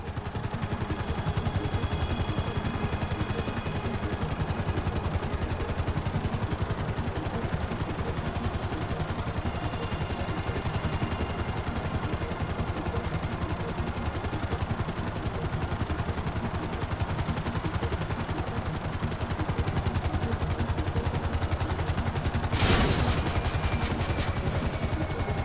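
A helicopter in GTA V keeps up a dense, steady rotor chop and engine drone for the whole stretch, loud and close, with a brief sharp crack near the end and no talking.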